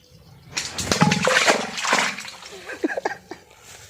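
Something splashes into water about thirty feet down a narrow pipe, giving a hollow, echoing splatter and a few reverberant drips, with faint murmuring before it.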